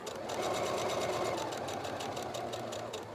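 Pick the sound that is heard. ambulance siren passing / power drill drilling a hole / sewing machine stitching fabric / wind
sewing machine stitching fabric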